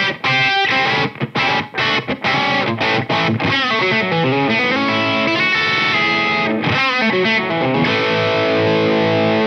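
Epiphone Dave Mustaine Prophecy Flying V electric guitar with Fishman Fluence pickups played through a high-gain distorted tone, loud palm-muted chugs and stabs giving way to sustained chords and riffing, with no talk.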